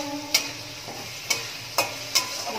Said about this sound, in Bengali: এবার মশলাটা ভালো করে কষিয়ে নিতে হবে।